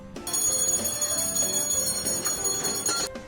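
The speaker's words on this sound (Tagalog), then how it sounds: "At lalagyan nila ng logo ang bawat cheesecake with matching bell sounds." A bell rings repeatedly as a logo is pressed onto each Uncle Rikuro's cheesecake at the bakery counter, with bright metallic ringing that is fairly loud, steady and sustained over busy shop background noise.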